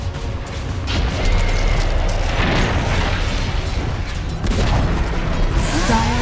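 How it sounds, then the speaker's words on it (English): Heavy booming explosions and crumbling bursts as a Dota 2 tower collapses in battle, layered blasts and debris rolling over several seconds with a second surge near the end, loud and without talk. "Dire's bottom tower has fallen."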